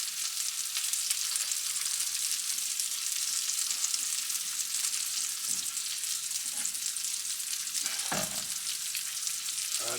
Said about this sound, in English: I'm going to scramble the eggs in some butter and the bacon grease.